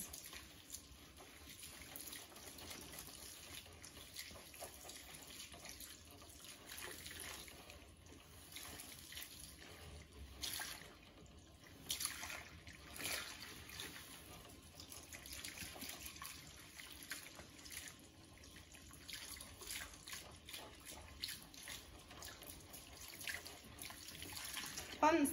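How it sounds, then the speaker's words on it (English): Tap water running steadily at a salon backwash sink while hair is rinsed clear of semi-permanent colour product, a soft continuous flow with faint splashing against hands and hair throughout. "we're going to rinse the product until the water runs clear"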